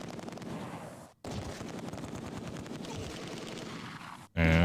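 SMG and German rifle gunfire in the World War II strategy game Close Combat 2, dense rapid shots firing continuously, broken by two brief silences.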